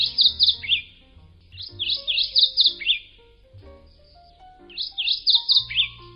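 A bright, clear mourning warbler song repeats three times, each a quick run of ringing chirps ending in a downward flourish, with pauses between phrases.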